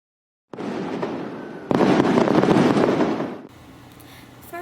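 Fireworks at a religious celebration in Sampaloc crackle and pop in dense, overlapping bursts, swelling into a loud, sustained barrage before dropping abruptly to a quieter, distant rumble.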